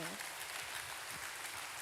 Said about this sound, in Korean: 여러분 신일본 화이팅하게 격려의 박수 주시고요